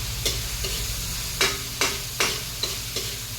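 Hotdog and corned beef sizzle steadily in a pan while being browned, with about six sharp spatula scrapes and stirs landing at an uneven pace, close and with no voices.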